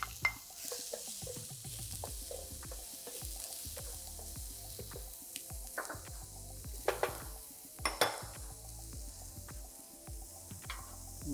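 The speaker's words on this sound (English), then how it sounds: "So this is, we add the onion now." Onion added to hot olive oil and chorizo in a paella pan, sizzling steadily as it is stirred, with frequent metallic scrapes and clinks of the spoon against the pan.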